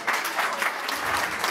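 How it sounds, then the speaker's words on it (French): Guests at an evening dinner gathering give a steady round of applause, moderately soft and continuous, with no talking over it. "applaudissements"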